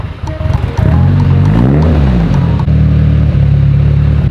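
A Mitsubishi Evo 8 engine revs up hard in a couple of rising and falling sweeps, then settles into a loud, steady droning hold, close and alone.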